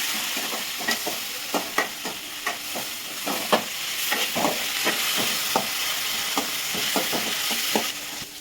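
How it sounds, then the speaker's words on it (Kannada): Spinach frying in oil with a steady sizzle and hiss, broken by a regular series of sharp stirring scrapes in the pan, close and fairly loud throughout with no talking. "ಈಗ ಎಣ್ಣೆ ಒಳಗೆ ಪಾಲಕ್ ಎಣ್ಣೆ ಒಳಗೆ ಬೇಯಿಸ್ಕೋಬೇಕು"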